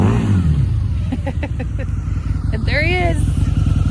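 A Harley-Davidson motorcycle engine revs as it is ridden around the block, a low rumbling drone that swells and falls with rising throttle sweeps, under a person talking nearby.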